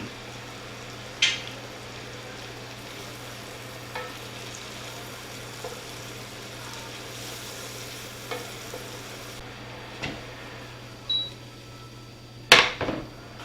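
Onions and garlic with salt fry in a pan for a chicken burrito filling. A low, steady sizzle runs throughout, broken by occasional spoon taps and stirring scrapes, with a louder clatter near the end and no talking.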